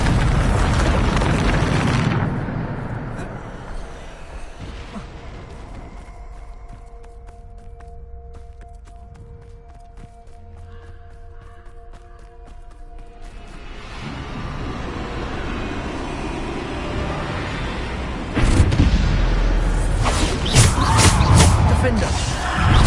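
Bombarda spell blasts in Hogwarts Legacy on PS5 produce heavy booms, with a loud burst at the start and more rumbling impacts near the end. A quieter middle stretch carries game tones, and voices are present.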